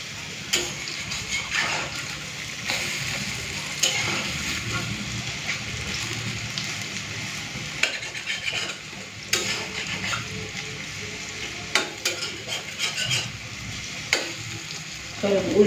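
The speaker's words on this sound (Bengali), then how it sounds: "উল্টে দিয়েছি, এরপরে লাল করে ভেজে নিই, পুরো মচমচে করে ভাজবো ভালো করে।" Small red lentil fritters sizzling in hot oil in a pan after being flipped, a steady bubbling fry broken by scrapes and clinks of a spatula stirring and turning them, loud and close.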